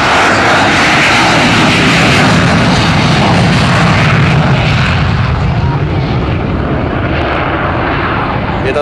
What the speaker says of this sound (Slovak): Nám tady pojíždí kolem Slovenska MiG-29, proto malinko hlučnější.